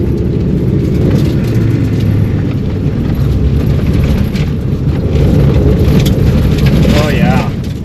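Rally car taking the first corner on new tires: a loud, steady engine and road roar fills the whole stretch, with constant broadband noise and a slight swell near the end.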